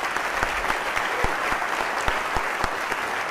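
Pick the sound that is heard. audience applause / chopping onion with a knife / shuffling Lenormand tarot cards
audience applause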